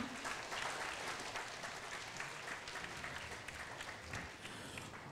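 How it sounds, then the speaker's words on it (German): Children at a university lecture for kids applaud, a sustained patter of many small hands clapping, fairly distant and steady for several seconds. "das war euer Applaus"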